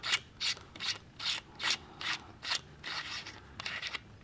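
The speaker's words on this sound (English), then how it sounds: "You just unscrew this cap" The threaded front cap of a green laser is unscrewed in close, quiet bursts of ratchety scraping, about ten rhythmic twists with no talk.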